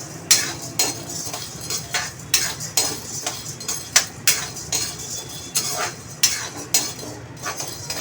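Idli podi ingredients (dry spices and lentils) roast in a pan under constant stirring, giving rhythmic metallic scrapes and clinks roughly every half second, close and fairly loud, with no voices.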